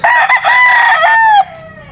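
A young rooster, a stag, lets out a single loud crow close by. The call rises into a strong, sustained note and then breaks off into a quieter trailing tail, with no talking.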